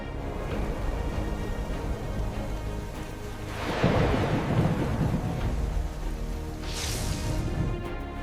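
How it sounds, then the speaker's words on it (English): A thunderstorm rolls through with loud, violent wind, a steady roar of gusts and rain building into heavy thunder rumbles midway, then a sharp hissing surge near the end. "The storm kept getting stronger and stronger"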